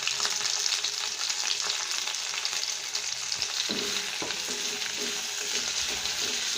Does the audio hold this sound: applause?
no